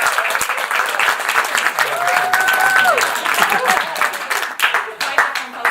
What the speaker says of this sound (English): I would like you to give them a round of applause